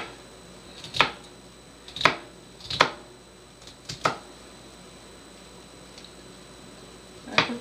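A knife chopping onions on a board in widely spaced single strokes, five sharp chops over several seconds with quiet pauses between, close and clear with no talking.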